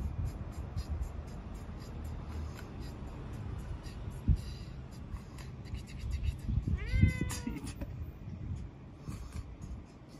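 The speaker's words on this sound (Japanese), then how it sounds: "今日の猫ドラ冒頭に登場していただいたにゃんこ" A cat gives one clear, drawn-out meow, fairly close, against a quiet room background with faint tapping noises.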